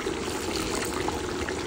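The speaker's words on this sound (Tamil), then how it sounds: "இப்போ நம்ம லெமன் ஊற்ற போகிறோம்." Lemon juice poured into a pot of biryani cooking on the stove, a steady wet trickle with soft liquid noise, close and continuous for under two seconds, with no voices.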